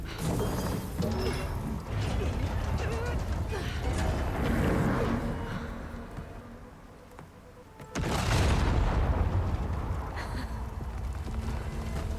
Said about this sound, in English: Detonate the explosives.